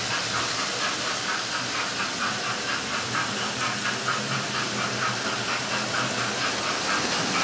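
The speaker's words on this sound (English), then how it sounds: "the final little session of the four locomotives running on the track" Four model GWR steam locomotives, express and coal trains with small carriages, run on a layout track, giving a steady close hiss with a faint rhythmic clatter underneath.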